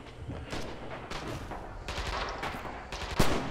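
Gunfire in the Red Orchestra 2 World War II shooter on the Winterwald map: scattered rifle and machine-gun shots crackle near and far over a steady battle din, with one sharper close shot near the end.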